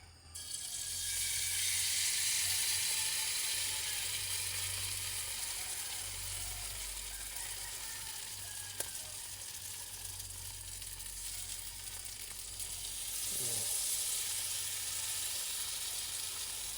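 Food frying in Star Margarine in a pan hisses in a loud, continuous sizzle, with occasional stirring scrapes and a brief surge midway, no voices present.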